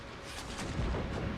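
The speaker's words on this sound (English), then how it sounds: "I think what we need is some good howitzer fire." Howitzer artillery fire in the video game Imperial Destroyer, heard as a dense, rumbling barrage of booms with a heavy low-end surge near the middle, continuous and loud without any talk.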